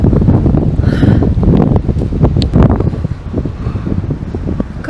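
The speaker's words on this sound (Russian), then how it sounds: "Видите, какой ветер? Ветрище." Strong, gusty wind buffets the microphone at a bus stop in the village of Nyuvchim in the Komi Republic, a loud continuous rumble that surges and roars with no speech.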